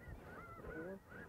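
Snow geese honking in flight over a hunting spread: several overlapping nasal honks from a flock, moderately distant and fairly faint, with no talk.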